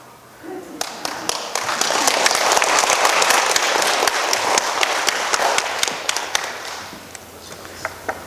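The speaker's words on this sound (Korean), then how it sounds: "지금 여러분 박수 치신 거예요?" A lecture audience breaks into applause, a dense sustained burst of many hands clapping that swells, holds for several seconds, then thins into scattered claps.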